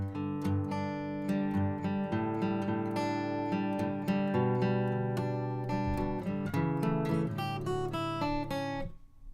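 Electric guitar playing a slow run-through of a verse from a song, steady sustained chords with picked notes, close and clear, no talking.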